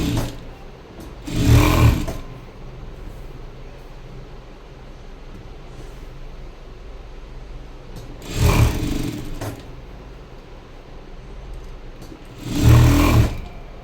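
A sewing machine stitching a high neck blouse in three separate short bursts of whirring, each a couple of seconds long, with quiet gaps between them.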